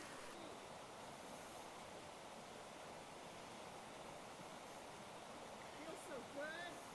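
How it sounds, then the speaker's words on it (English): River water rushing steadily at a shallow ford on the Appalachian Trail, a constant broadband wash of flowing current heard up close, with a few faint higher chirps near the end. "Second river fording of the trip."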